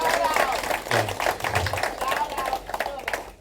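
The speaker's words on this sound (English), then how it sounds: "So let's give a big shout out and a round of applause to those guys." Applause at a quarterback club meeting for a football coach and players, a brisk round of clapping with voices and crowd murmur mixed in.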